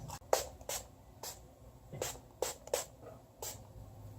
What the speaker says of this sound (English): So to spray, I'm using the e.l.f. Makeup Mist and Set.